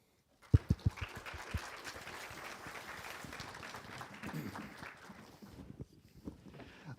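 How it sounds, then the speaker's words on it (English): Audience applause welcoming speakers at a web engines conference, starting with a few loud separate claps that swell into steady, sustained clapping from a crowd filling the room. "please welcome with a huge round of applause our speakers"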